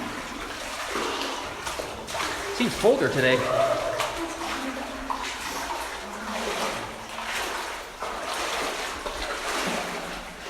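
Water splashes and sloshes through a flooded copper mine tunnel as people wade through it, a continuous rushing wash with footstep surges and people talking over it.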